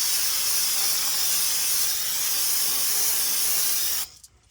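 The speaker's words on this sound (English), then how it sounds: "Let's go ahead and spray this thing down with some brake cleaner." Brake cleaner sprayed onto the brakes of a 2006-2011 Toyota RAV4: a loud, steady aerosol hiss runs for about four seconds, then cuts off abruptly, with no talking.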